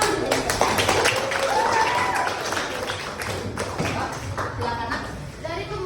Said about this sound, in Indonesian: Tepuk tangan untuk Jessica.